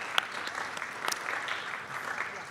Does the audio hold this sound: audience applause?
yes